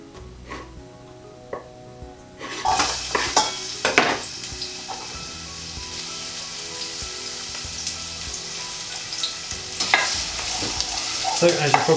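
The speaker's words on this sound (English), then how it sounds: "just need to keep all of that moving around the saucepan while you're sautéing it" Onions and garlic sauté in a saucepan for a vegan sag aloo, a steady close sizzle with scraping stirs and utensil clinks after a quieter start, continuing without any talk.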